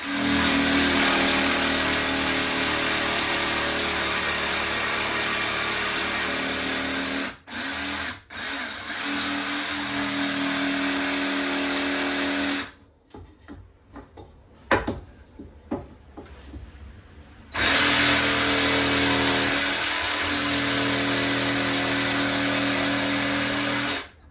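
A power tool cutting a groove in a narrowboat whines continuously at close range, pausing briefly a few times, then falling quiet with some handling clatter before cutting again.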